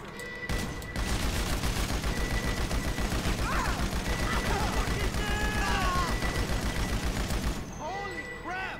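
Sustained, rapid gunfire from a GTA San Andreas shootout during the Clucken Bell raid: dense bursts crackle almost nonstop for several seconds, then cut off near the end, with occasional voices and game sounds mixed in.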